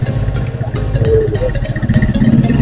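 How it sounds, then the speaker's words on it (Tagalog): A motorcycle engine runs loudly and steadily near a town fiesta plaza, with a rough, throbbing rumble and some clatter, no talk over it. "yan lang ang motor namin"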